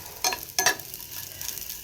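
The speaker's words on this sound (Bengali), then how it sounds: "এখানে আলু ফুলকপি ভাজা হচ্ছে" Potatoes and cauliflower frying in a pan, a steady close sizzle broken by two short bursts of stirring.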